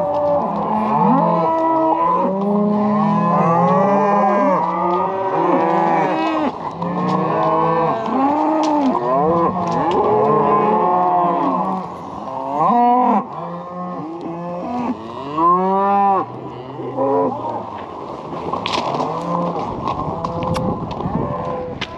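Cattle being herded home on a farm low repeatedly, a near chorus of overlapping moos running almost continuously throughout, loud and close with some shuffling movement beneath.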